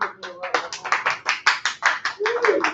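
An audience at a live comedy-style show claps in quick uneven bursts, close and lively, with a voice talking over the applause.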